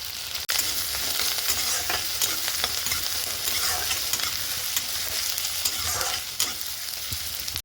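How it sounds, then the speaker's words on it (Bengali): Sliced onion and slit green chilies fry in hot oil in a wok, giving a loud, steady sizzle that crackles on without pause and with no voices over it. "এই কড়াইতে একটু তেল দিয়ে দিয়েছিলাম। এবার দিয়ে দেবো পেঁয়াজ, দেবো চেরা কাঁচা লঙ্কা"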